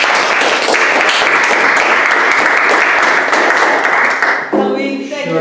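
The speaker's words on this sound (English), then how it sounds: "big round of applause" A lecture audience breaks into loud, dense applause that carries on steadily before tapering off, as a voice begins speaking at the end.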